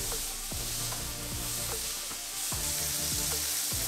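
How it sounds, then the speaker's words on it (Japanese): Diced beef for sirloin-style cubes searing in garlic-infused oil, a loud, dense, constant sizzle and crackle up close, with occasional spattering pops, nobody speaking. "ニンニクの香りを移した油でお肉を炒めていきます"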